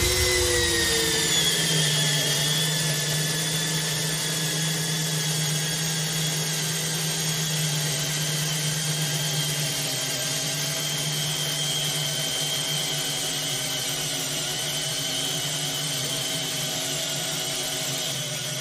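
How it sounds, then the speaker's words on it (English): A cordless drill whines steadily at full speed for a long stretch, a continuous grinding motor drone as a 3/4 inch paddle bit bores through a 6x6 treated lumber post with no pauses. "how fast our drills drill this 3/4 inch paddle bit through a 6x6 treated piece of lumber"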